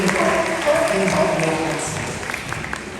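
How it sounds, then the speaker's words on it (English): Steady applause from an audience at a sea lion show fills the clip, a dense wash of clapping that gradually softens toward the end. "give me a round of applause too."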